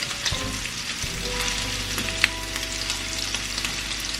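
IKEA-style Swedish meatballs sizzle and fry in a pan, a steady close crackle and hiss with occasional pops and stirring scrapes, no talking.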